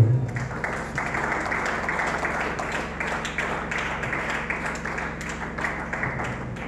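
A church congregation claps and applauds during a New Year Sunday worship service, a steady, dense wash of hands under a low hum, sustained for several seconds.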